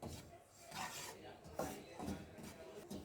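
Flour (maida) roasts in a pan while a spoon scrapes and stirs it in rhythmic rasping strokes, close and fairly quiet, with faint voices in the background.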